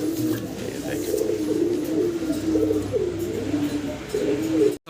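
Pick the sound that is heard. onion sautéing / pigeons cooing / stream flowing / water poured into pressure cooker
pigeons cooing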